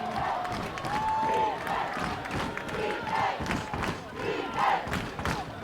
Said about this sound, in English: Crowd to chant the defense, rocking this press box.